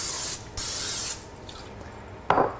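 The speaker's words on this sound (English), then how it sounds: "we're gonna spray it with a little olive oil" Several short hissing sprays from an olive oil aerosol can into a pan, two longer bursts then a brief final spritz, close and fairly quiet.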